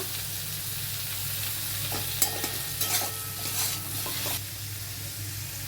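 Chopped tomato and turmeric go into hot spiced oil in a pan for Bengali potol posto, sizzling steadily while a spoon scrapes and stirs in short bursts, without any talk.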